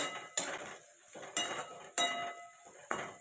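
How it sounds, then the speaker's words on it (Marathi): Bitter gourd tossed and mixed in a pan produces four sharp spoon-against-metal scrapes at roughly one-second intervals, each trailing into a brief rustle, close and fairly quiet. "आता जे आपलं कारलं आहे ते आपण यामध्ये घालून घेऊया पूर्ण मिक्स करायचं"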